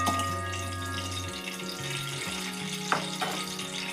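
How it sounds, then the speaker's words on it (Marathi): About three or four cinnamon sticks and cloves sauté in ghee for a coconut rice dish, giving a steady close sizzle with a couple of faint scraping stirs near the end. "चांगला परतून घ्यायचं आहे तुपामध्ये हा मसाला"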